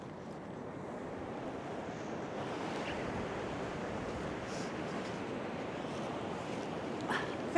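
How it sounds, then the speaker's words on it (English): Surf washing onto a beach at Cambois makes a steady, broad rumble with the hiss of breaking waves, punctuated by wind buffeting the microphone and no clear speech. "I think that's just the surf."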